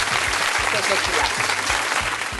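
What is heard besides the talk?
audience applause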